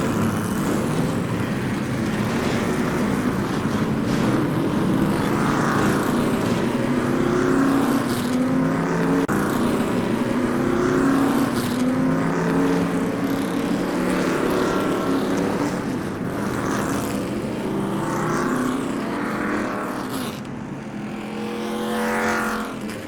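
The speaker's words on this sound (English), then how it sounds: "So let's roll them out, get them onto the track for driver's introduction." Street stock race cars roll out onto a speedway track for driver introductions, a dense blend of several engines rumbling and revving together, loud and continuous, with one pass swelling and fading near the end.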